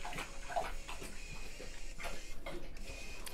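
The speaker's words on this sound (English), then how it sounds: "That's my dog drinking water." A dog laps water from a bowl in a quiet room, soft repeated wet laps at a steady rhythm, faint and close.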